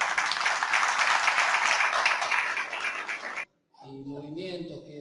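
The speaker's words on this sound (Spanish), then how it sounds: "Fuerte el aplauso para él." Loud, sustained audience applause at a memory and identity festival fills the first three and a half seconds, then cuts out abruptly before a voice starts speaking.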